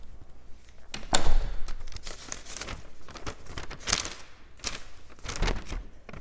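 A paper letter envelope is torn open and handled close up, giving irregular crinkling and tearing rustles with a few sharper rips.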